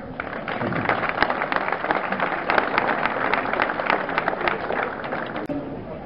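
An audience at a Sainte-Rosalie festival ceremony in La Fare applauds steadily, with dense clapping that carries on for several seconds at moderate volume.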